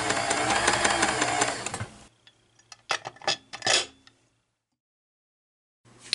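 A Kenmore 158.13413 sewing machine runs with a dense whirring mechanical clatter for about two seconds, then stops, followed by scattered clicks and knocks of moving parts and a brief restart at the end.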